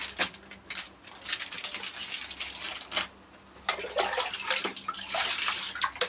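Water splashing and sloshing as clothes are washed in a bucket, with a few pauses and an irregular run of nearby slaps, drips and splashes.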